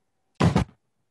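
A door lock clunks shut in a stage play, a sharp double knock-like thud heard close and loud, lasting about a third of a second before complete silence.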